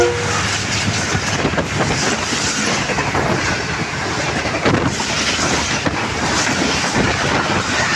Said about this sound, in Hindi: ये सामने आ रही है 15 up Karachi express non stop train, जिसकी लीड पर है आज GE40 9017 के साथ।